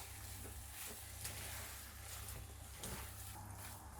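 Rava kichadi with turmeric and lemon juice being stirred in a pan, a steady soft sizzle with scraping strokes of the spoon throughout, moderately quiet and close, no voices.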